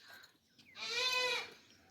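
A Makhi Cheena goat at a Tallagang market gives a single loud, close bleat lasting about a second, with faint background noise around it.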